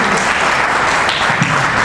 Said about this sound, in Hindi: एक बार जोरदार ताली बजाकर स्वागत कीजिए।